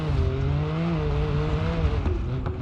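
Small turbocharged three-cylinder engine in the BeamNG.drive driving game, revving high and hard at steady strain with a brief dip near the end, loud and close with no speech.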